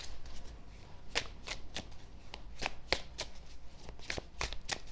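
A deck of tarot guidance cards is shuffled by hand up close, a run of crisp riffling bursts and soft slaps repeating irregularly, with no talk.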